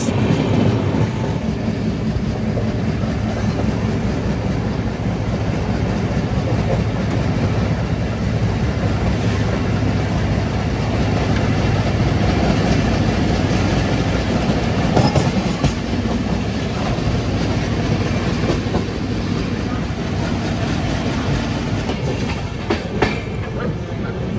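The Padatik Express from Sealdah to New Alipurduar rolls along the rails, heard from on board as a loud, continuous rumble with faint rhythmic wheel clatter throughout.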